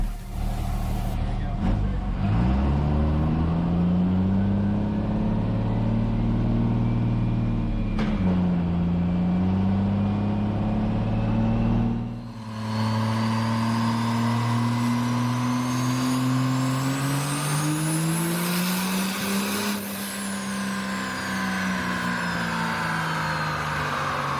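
A 6.7 Cummins diesel engine revving high and holding a loud, steady drone, pitch climbing and sagging over a long stretch with a sudden drop midway before rising again, close and sustained with occasional voices under it.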